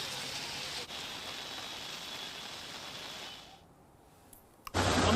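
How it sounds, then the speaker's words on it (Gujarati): Heavy rain falls in Ahmedabad, a dense steady hiss of rain that fades out near the end before a sudden loud burst of noise. "અમદાવાદમાં ભારે મેઘખાંગા થયા છે"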